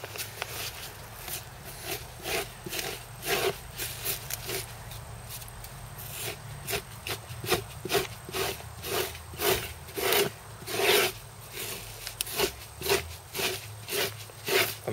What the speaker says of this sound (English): So that's why I use wet scrape.